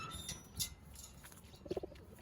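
Colored pet pigeons kept in an enclosure give a faint, brief coo near the end, after a few soft rustles and clicks in an otherwise quiet setting.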